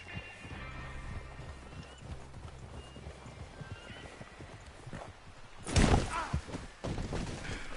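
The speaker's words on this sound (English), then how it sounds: "Is that horse okay, Albert?" Horse hooves clip-clopping steadily in the Red Dead Redemption 2 video game, with a horse whinnying and a louder burst of activity partway through, all at moderate volume.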